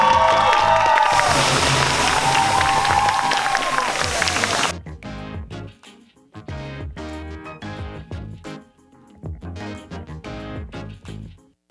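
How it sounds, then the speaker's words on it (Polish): Crowd at the NYX Face Awards Poland 2017 final cheering and applauding loudly for the finalists, a dense burst that cuts off abruptly, followed by rhythmic thumping music. "To ogromne brawa dla wszystkich finalistów"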